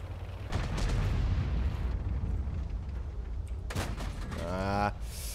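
Tank cannon fire from a Pz.Kpfw. T 25 in World of Tanks, a booming report with rumbling low-end aftermath, followed by a second sharp burst near the end, with mechanical whine and voice in the background.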